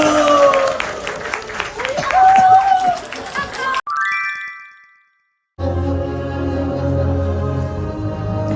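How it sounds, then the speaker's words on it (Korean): Congregation applause at a Christmas church service, a dense spread of clapping mixed with crowd voices, then a bright chime-like tone, a short silence, and sustained organ or keyboard chords taking over. "박수"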